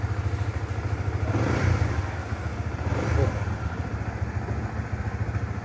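A motorcycle, a GTR, idles close and steady with a pulsing, chugging beat and a couple of mild throttle swells after its throttle body has been cleaned.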